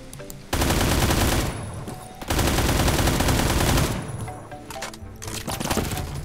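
Rapid gunfire in the Roblox-style shooter Phantom Forces, loud dense bursts of shots in two long volleys with brief gaps, then scattered quieter fire, with no talking.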